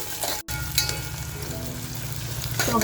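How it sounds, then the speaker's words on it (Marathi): Onion frying in a pan for mutton dal gives a steady close sizzle with light stirring scrapes throughout. "हलकासा कांदा लालसर होत आलेला आहे"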